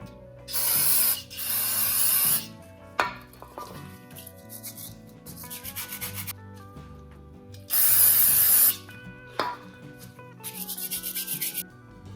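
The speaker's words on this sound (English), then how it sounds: "Got my can of brake cleaner and a wire brush." Two long, loud hissing bursts of brake cleaner sprayed from an aerosol can during a Mopar 400 big-block engine teardown, separated by scraping, brushing and clinking shop sounds.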